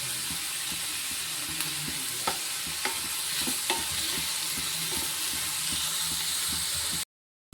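Onions sauté in a pan for a dried fish kootu, giving a steady close sizzle with occasional soft clicks of stirring. The sound continues without talk and then cuts to silence just before the end.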